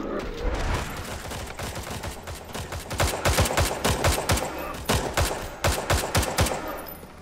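Gunfire in the VR shooter Hard Bullet: a rapid series of loud, sharp gunshots in irregular bursts, closely spaced at first and then in clustered volleys, heard up close with no talking.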